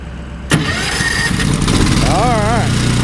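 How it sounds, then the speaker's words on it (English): A Ford engine is started with a push button with the choke run all the way up, giving a sharp onset then a steady loud running roar with a rising, wavering revving tone toward the end. "I'm going to try to start it."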